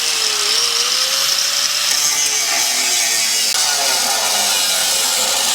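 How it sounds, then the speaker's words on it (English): A Hitachi angle grinder runs steadily for the whole stretch, a loud, close, continuous high whine with a slight shift in pitch as it cuts into a Grand Cherokee, with no talk. "This Hitachi grinder"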